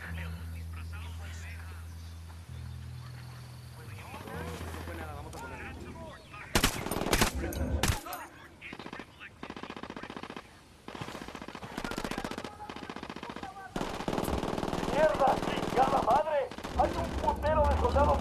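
Bursts of automatic gunfire in the video game Ghost Recon Wildlands, loud, dense rattling volleys in several separate stretches, with voices speaking between and under the shots.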